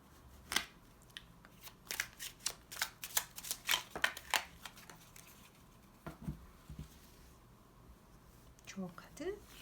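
Advice cards are shuffled and drawn, giving a quick run of soft, crisp card flicks and slaps close by, then a few scattered rustles, all under quiet speech.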